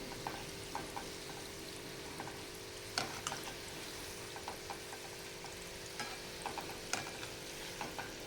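Gulab jamun frying in hot oil at medium heat give a quiet, steady sizzle, broken by light clicks and scrapes as they are turned over, with no speech.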